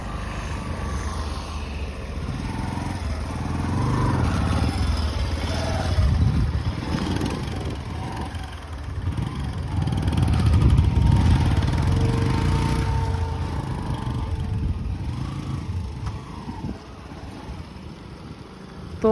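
A Bajaj 125cc motorcycle engine drones and revs steadily while off-roading over rough ground, close and fairly loud, with the pitch rising and falling through the throttle changes and no talk over it.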